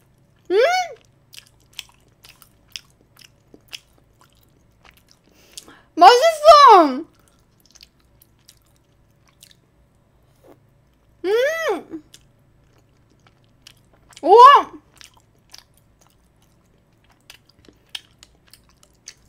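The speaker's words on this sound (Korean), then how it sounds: "마이크 소리 안 키울게요. 그냥 먹을게요." Someone eats rose tteokbokki close to the microphone, with soft, sticky chewing and occasional clicks between a few short, high-pitched voiced sounds spaced out over quiet stretches.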